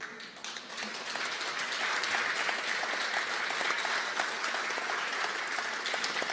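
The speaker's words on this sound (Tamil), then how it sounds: "எல்லோரும் எழுந்து நின்று பலமாக கைத்தட்டுவோம்" A large audience at a political meeting in Chennai rises and applauds loudly, dense sustained clapping that swells in the first second and then holds steady.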